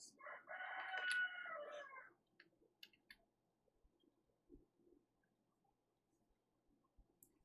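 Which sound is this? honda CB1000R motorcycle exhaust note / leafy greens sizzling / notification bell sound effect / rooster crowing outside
rooster crowing outside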